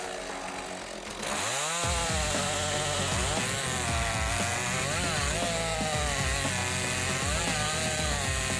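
A chainsaw starting up and then cutting into a tree, a loud, steady rasping roar with rhythmic pulsing as the chain bites through wood, close by and alone without talk.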